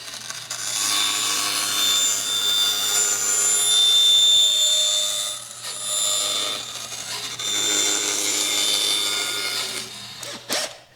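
A bandsaw cuts through a wooden disc in a woodworking shop, a steady rasping whine across two long passes with a brief pause between, ending with a few clunks as the piece comes free.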